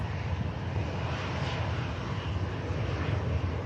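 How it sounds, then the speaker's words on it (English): An easyJet airliner arriving at Manchester Airport from Prague gives off a steady, even roar of engine noise that holds at moderate loudness throughout. "EasyJet arriving in from Prague."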